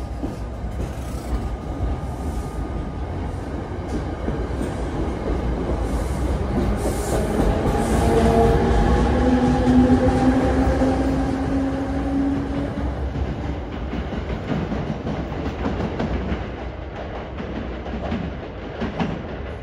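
A New Jersey Transit train at Summit, New Jersey, rumbles steadily with a continuous low roar, a long tonal squeal rising over the middle stretch before fading back into the rolling noise.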